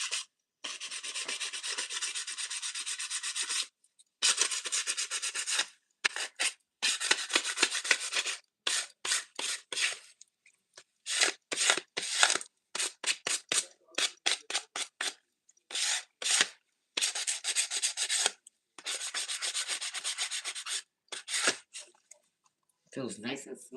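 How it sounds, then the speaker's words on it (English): Sandpaper rubbed back and forth over a surface to smooth it, a close, raspy scratching that comes in strokes of varying length with short gaps, some long and steady, others brief and choppy. "So that's why you should keep your sandpaper handy."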